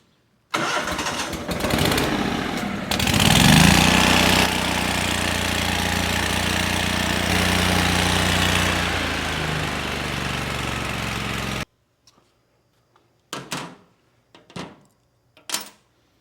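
A Lincoln Ranger 8 welder engine cranks and fires, then settles into a loud, steady idle close by for roughly eleven seconds before cutting off. A few short knocks and clatters follow in the quiet.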